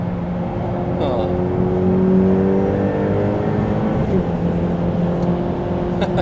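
A Ferrari 488 Pista being broken in on a lap of the Nürburgring Nordschleife: a loud, continuous engine drone whose pitch slowly rises and falls, with no pauses.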